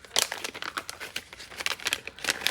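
Tape being handled for card making, giving close, crisp crinkling and crackling with short tearing-like bursts, irregular and continuous throughout at moderate level.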